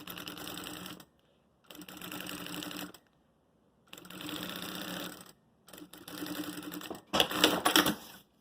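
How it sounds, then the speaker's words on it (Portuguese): Sewing machine stitching a zipper onto a fabric makeup case, running in four bursts of steady rapid stitching with short pauses between, the last burst loudest and closest. "E a gente vem costurando."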